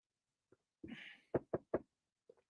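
Three sharp knocks on wood in quick succession, close and loud, with a brief scuffle before them and a faint tap afterward.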